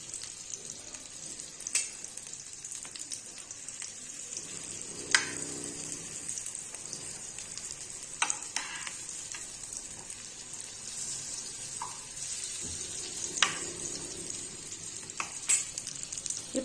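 Bread slices sizzle and fry steadily in melted butter in a pan, with a continuous crackling hiss and occasional soft scraping or placement sounds, no talking.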